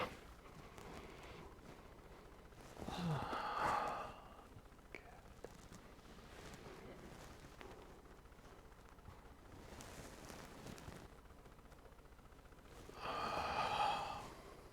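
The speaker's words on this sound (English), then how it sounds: "Breathing in deep." Deep breathing during a yoga session: two long, slow breaths roughly ten seconds apart, each a soft airy rush through the nose or mouth, close but quiet over a faint room hiss.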